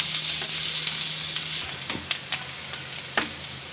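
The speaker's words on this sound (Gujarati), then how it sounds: "ડુંગળીને આપણે ઘડીક તળવા દેવું તેલમાં." Onions sizzle in hot oil for Punjabi poha; a loud steady frying hiss drops to a quieter sizzle midway, with several light clicks of a spoon against the pan.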